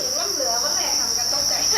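Crickets chirp continuously at a Thai cricket farm, a steady high-pitched insect drone with busy overlapping trills, moderately loud and close throughout.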